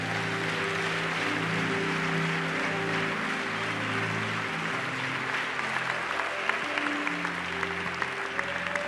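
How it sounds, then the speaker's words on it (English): A church congregation claps together during a worship service, sustained applause heard alongside held musical tones from instruments playing in the room. "Come on, clap for Jesus."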